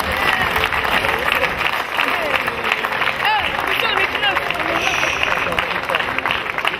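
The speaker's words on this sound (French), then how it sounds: "et on les applaudit parce qu'ils ont été beaux" A crowd applauds a football team at a suburban community tournament, with clapping steady and loud for the whole stretch, mixed with lively chatter and voices.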